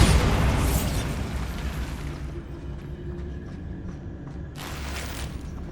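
An explosion spell in the Hogwarts Legacy video game goes off as one loud, broad blast, then rumbles and crackles down into a low tail. A second burst of noise flares near the end.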